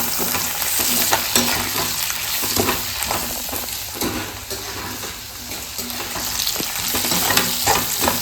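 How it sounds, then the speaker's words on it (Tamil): Onions, one large sliced and about ten small ones, sizzle and fry steadily in hot oil in a cooker, loud and close, with repeated scrapes and clatters of stirring and no talking. "பாருங்க ஃப்ரெண்ட்ஸ், வெங்காயம் நல்லா வதங்கி பாருங்க."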